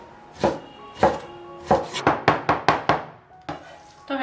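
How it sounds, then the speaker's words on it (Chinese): A cleaver chops pork foreleg meat into mince on a wooden board, about ten sharp, loud thuds, first spaced out and then in a quicker run before slowing again. "然后再剁碎"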